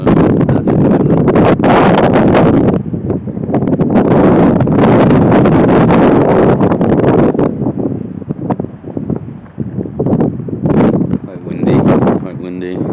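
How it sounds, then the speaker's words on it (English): Strong gusts buffet an outdoor microphone near Penrith Castle in Cumbria, a loud, continuous rumbling roar that swells and dips across the whole stretch, with no one speaking. "Quite windy."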